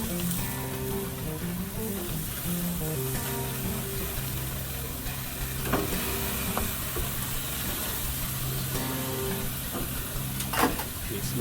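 BBQ chicken sizzles on a grill in a steady hiss, with a few scraping clicks as pieces are flipped and a low tonal hum underneath.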